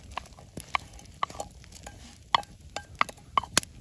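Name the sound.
stirring fried vegetable base into canned fish soup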